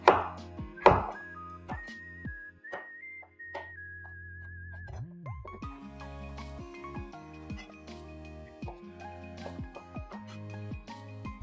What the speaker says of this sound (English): we're going to slice it into about 1-inch cubes